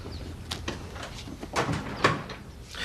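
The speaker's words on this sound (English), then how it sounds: "Shut the door." A door is shut with a few knocks and scrapes, ending in a firmer thud, heard at moderate distance in an indoor room with faint background noise.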